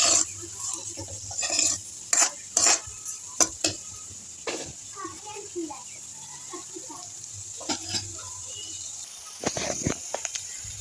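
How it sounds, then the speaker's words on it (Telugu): Sliced onions with a pinch of turmeric and salt frying in two spoons of oil, stirred with a spoon that gives sharp scrapes and clinks against the pan over a soft background sizzle. "ఇది బాగా ఫ్రై చేసుకోవాలి"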